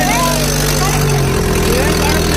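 A boat's motor hums steadily at idle on the Ganges in Varanasi, a continuous low throb beneath people talking.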